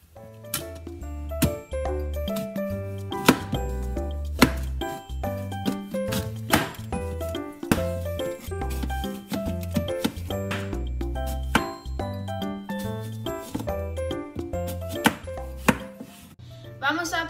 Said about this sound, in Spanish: Vamos a cortar las manzanas en pedazos finitos.